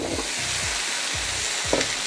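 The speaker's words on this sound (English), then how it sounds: "So you're going to hear this nice sizzle." Potatoes sizzle on a preheated sheet tray with a steady, close hiss, while a few low thumps recur at roughly half-second intervals.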